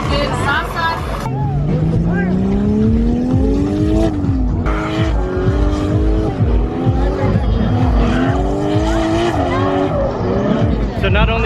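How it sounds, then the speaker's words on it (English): A car drifts on an airport runway at a hot air balloon festival, its engine revving hard with rising and falling pitch and tires squealing continuously, loud and close, while a crowd murmurs underneath. "Drifting on a runway."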